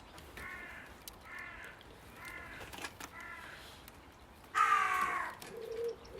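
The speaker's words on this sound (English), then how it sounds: "There's still loads of long-range crow going on." Crows caw in the distance in a steady series of harsh calls, then one louder, closer caw follows near the end; no one speaks.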